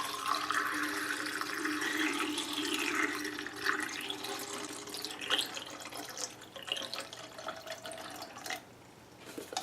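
Film developer solution is poured into a developing tank, a soft steady trickle and gurgle of liquid lasting several seconds, fairly quiet and close, then tapering off.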